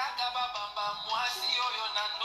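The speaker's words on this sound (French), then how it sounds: "Le téléphone." A telephone rings in an indoor room, a steady electronic tone with harmonic bands that pulses in short bursts and stays fairly loud throughout, with no talking over it.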